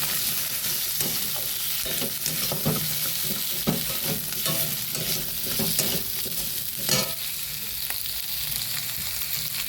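Masala and potato pieces fry in a pan for a soybean curry, a steady broadband sizzle with repeated scraping stir strokes and clinks throughout, close and fairly loud, no voices.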